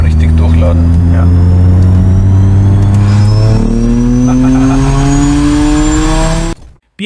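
Simulated engine and exhaust sound of an electric BMW M3 rises in pitch as it accelerates, a loud, close synthetic roar that climbs steadily for several seconds before cutting off abruptly.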